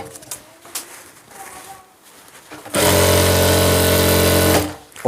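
Sewing machine stitching pajama fabric, with soft handling noises at first and then a loud, steady, close whirring run of stitching lasting about two seconds before stopping.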